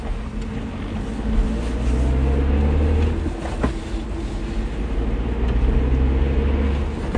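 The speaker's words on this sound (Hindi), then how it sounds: "राघव ने गाड़ी स्टार्ट की और गाड़ी फुल स्पीड में भगाने लगा।" A car drives at full speed, a loud, steady low engine rumble with road roar that swells slightly and then holds. No one speaks.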